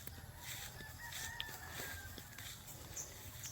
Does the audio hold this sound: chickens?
yes